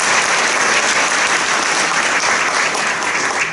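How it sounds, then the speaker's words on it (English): Sustained, loud applause from an audience at an educator awards ceremony fills the whole stretch, dense and steady with no voices. "And you can clap for her as well"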